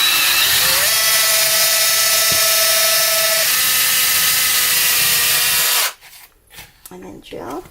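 A Dremel drills a hole for adding rings to a Naked Cow traveler's notebook, giving a loud, steady high-pitched whir for about six seconds before it cuts off into quiet handling sounds.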